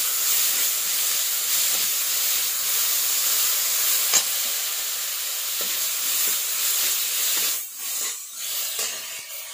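Tomato fries in hot oil seasoned with turmeric in a pan, giving a steady, close hiss and sizzle that runs throughout. A few light clicks and stirring scrapes break in, and the hiss briefly dips near the end.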